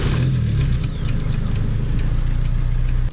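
A Datsun 510 engine runs steadily and close by, a loud, constant low rumble with a rough mechanical texture that holds for about three seconds without any talking.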